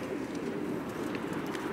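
Racing pigeons in a loft coo nervously before a race flight in Germany, a dense, continuous low burble of many birds, with faint chirps above it.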